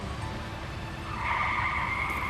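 A car skids on a road, a steady low rumble that swells into a sustained tire squeal partway through, near and moderately loud.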